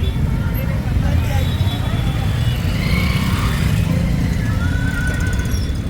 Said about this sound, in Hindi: बहुत ही ट्रैफिक का जाम है।